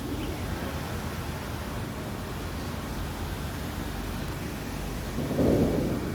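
Steady rain hisses continuously, and a low rumble of thunder swells briefly near the end.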